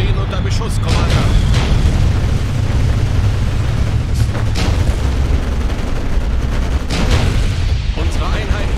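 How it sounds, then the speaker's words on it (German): Continuous heavy booms and explosions from units under fire in the war strategy game Codename Panzers: Cold War, a loud rumbling barrage with sharper blasts, under a voice speaking. "Unsere Einheiten stehen unter Beschuss, Commander."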